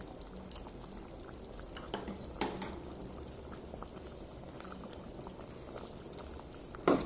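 Mutton curry with coriander simmers in a pot, a low continuous bubbling boil with soft liquid gurgles and one brief louder knock near the end.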